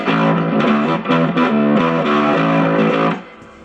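Gritty bass guitar notes through a Zoom B2 overdrive preset on a cheap bass, played in a sustained pattern, loud and close, with the last note ringing down toward the end.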